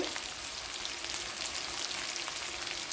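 Sliced onions fry in oil for a spicy South Indian chicken curry, giving a steady, even crackling hiss at close range with no talk.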